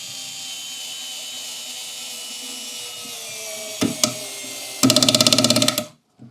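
A Parkside electric screwdriver with interchangeable heads, set to its highest torque, hums steadily for a few seconds. Two short mechanical clicks follow, then a loud rapid ratcheting burst before the motor stops abruptly.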